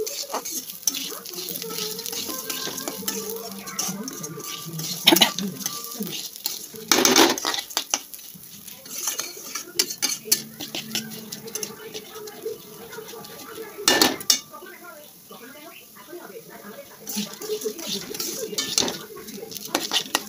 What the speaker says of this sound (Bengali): দিয়ে এবার ভাজা ভাজা করবো।